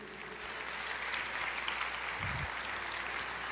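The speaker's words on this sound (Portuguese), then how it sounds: "Você pode aplaudir o Senhor e dizer, eu creio." A church congregation claps in praise, a soft continuous patter of many hands heard from a distance at low level, with a brief low thump partway through.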